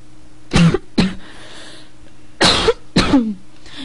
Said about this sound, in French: Excusez-moi si je tousse beaucoup